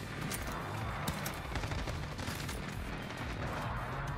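SCAR rifle gunfire in a first-person shooter video game, rapid dense bursts of shots with overlapping distant fire and explosions running continuously at moderate level.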